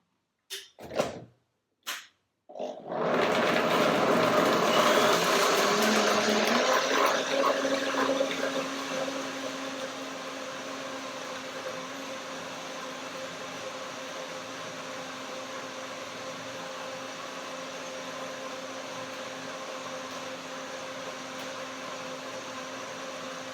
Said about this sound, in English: So let's see blender dance.